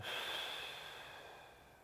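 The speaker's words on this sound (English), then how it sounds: "We're going to breathe in the nose, 3 seconds. Out the mouth for 6." A single slow breath of air, drawn in through the nose and pushed out through the mouth during a low back relief exercise, close and soft with a steady airy hiss that gradually fades.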